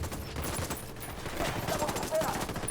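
Gunfire from Ghost Recon Wildlands crackles as a rapid, moderately loud series of shots, mixed with game sound and some voice.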